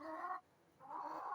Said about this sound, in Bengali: কর কর কর কর করে, ওই ওই কর কর করে। দেশি মুরগি, আমি বাড়ি থেকে আনছি।